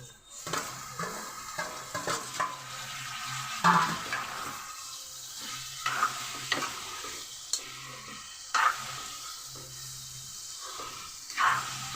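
Carrot, beetroot and potato pieces frying in a pan, a soft steady sizzle punctuated by intermittent scraping stirs and spoon taps against the pan, close and fairly quiet with no talk.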